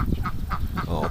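Muscovy ducks give short repeated honking calls close by near their ducklings outdoors on a cool morning, several rhythmic bursts over steady wind noise, with no talk.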